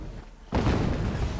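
An explosion in the video game Horizon Zero Dawn Remastered erupts suddenly as a loud, broad rumbling boom after a quieter moment and keeps roaring without fading.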